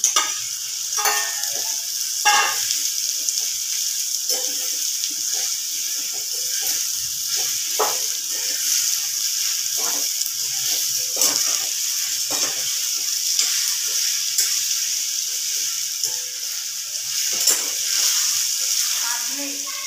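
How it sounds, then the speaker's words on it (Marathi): Sliced onion and chopped bitter gourd fry together in a pan with cumin and turmeric, giving a steady, dense sizzle with scattered scraping stir clicks throughout. "दोघं पण एकत्र चांगले तळले जातात, चांगले तळू द्यायचे"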